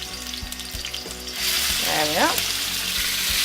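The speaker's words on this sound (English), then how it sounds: "Just tip the beef in, and it should really sizzle as it hits the pan." Beef tipped into a hot wok hits with a loud, sustained sizzle as it flash fries, preceded by rhythmic clanks of cooking, with a brief remark spoken.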